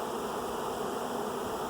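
A large swarm of bees at a ranch buzzes in a steady, dense drone that holds at an even level throughout, close by and with no one talking.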